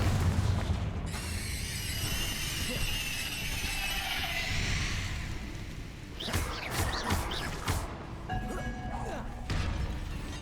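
Bombarda and Confringo spells exploding during a fight in Hogwarts Legacy: booming blasts and shattering crashes with crackling magic effects, loud and near, layered over game music and voices.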